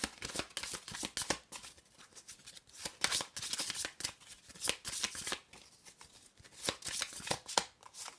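Oracle cards being shuffled by hand, a continuous run of crisp riffling and flicking bursts in an uneven rhythm, close and fairly loud, with no speech.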